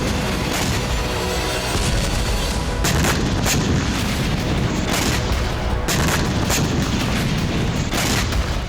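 Russian FAB bombs explode during fighting in Kharkiv, a dense, continuous roar of heavy booms and blasts with repeated sharp impacts over about nine seconds.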